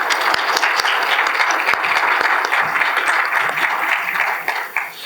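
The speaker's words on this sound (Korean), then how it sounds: "대표님께서 올라오시는 동안 환영의 박수로 좀 맞아주시면 감사하겠습니다." An audience at a space-industry conference applauds steadily to welcome a speaker to the stage, loud dense clapping that thins out toward the end.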